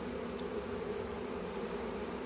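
A honeybee swarm gathered on uncovered beekeeping equipment, giving a low continuous buzzing hum, steady and fairly faint, with no voices over it.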